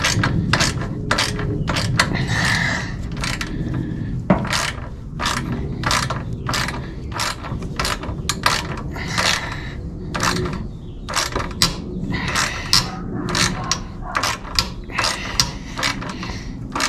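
Socket ratchet clicking in quick repeated strokes while tightening on the new front axle of a 1946 Chevy, a steady close mechanical ratcheting that runs throughout with no talking.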